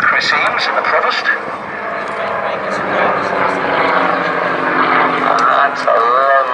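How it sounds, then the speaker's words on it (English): A Percival Provost propeller aircraft flies a deep loop at an air show, its engine drone steady and moderately loud throughout, with a commentator talking over it. "Executing a very deep loop, Chris Eames in the Provost"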